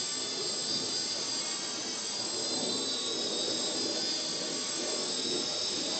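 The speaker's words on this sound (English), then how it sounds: "The whine of the speed controllers." High, steady whine from a quadcopter's speed controllers during its first hover, loud and continuous throughout with a broad rushing hiss and no talk.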